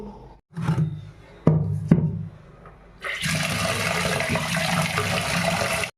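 Water pouring and sloshing over urad dal being washed for Andhra-style garelu, a few short splashes and knocks followed by a sustained gushing rush of water.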